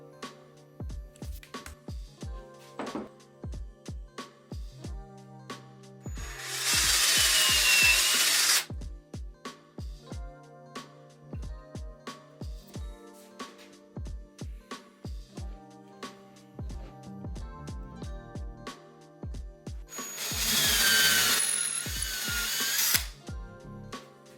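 A power tool carves teddy bear arms from leftover sofa wood in two loud bursts of whirring grinding, separated by stretches of quiet clicks and taps.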